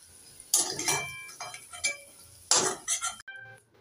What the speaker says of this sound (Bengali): আলু ভাজাটাও তুলে নেব ওই বাটির মধ্যেই